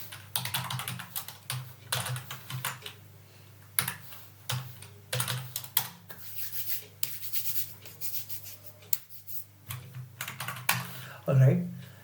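Computer keyboard typing while someone writes simple login code: rapid bursts of close keystrokes with short pauses, steady and moderately loud, and no speech.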